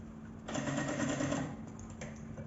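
A sewing machine stitches a safety seam along the edge of a bag, a close rapid whirring run of about a second, then slowing, with a brief stop and restart and no speech.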